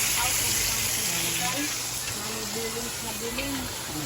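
A broad, steady sizzle of fish frying in oil fills the space, with voices talking over it throughout.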